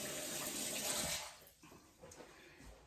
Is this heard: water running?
yes